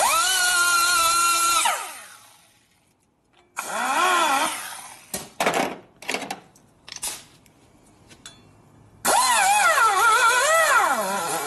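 Cutting tool working aluminum on a Harley-Davidson Shovelhead engine part, rising in loud whining bursts with pitch sweeps, broken by quieter gaps and scattered clanks between cuts.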